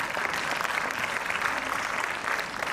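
A crowd at a ballet showcase in Jaipur applauds in a dense, steady wash of clapping that holds at an even, fairly loud level throughout, with no talk over it.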